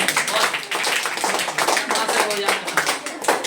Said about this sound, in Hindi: जोरदार ताली बच्चे